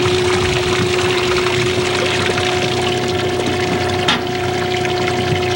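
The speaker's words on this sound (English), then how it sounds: "now I need to fill the tube with water." A water pump runs steadily to fill a plastic tube with water: a loud, constant whirring hum with rushing water and no pauses.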